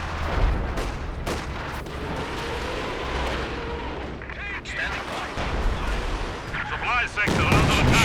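Artillery shells burst in Company of Heroes 2, a dense run of booming explosions and gunfire rolling over a low rumble, with a heavy blast near the end and no talk.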